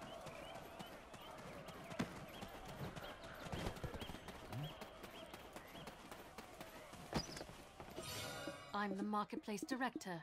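Horse hooves gallop in the Black Desert Online video game, a steady clip-clop rhythm under continuous game sound with someone talking over it.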